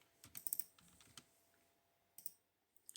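Keys on a computer keyboard typed in short bursts of quick, crisp clicks with pauses between, close and fairly quiet, with no talking.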